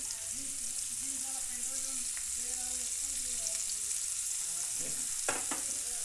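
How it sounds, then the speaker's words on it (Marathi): Onion fries in hot oil with ginger and ground chili, a steady close sizzle with a few stirring scrapes near the end, while a voice is briefly heard early on. "आणि मस्तपैकी एकदम याला फ्राय करायचं कांदा उलटा पलटा करायचा"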